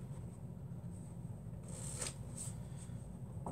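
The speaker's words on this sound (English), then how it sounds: "And I'll give these cards a quick mix." A deck of playing cards being given a quick shuffle, a soft continuous riffling and rustling close by with a couple of brighter snaps, heard alone without talk.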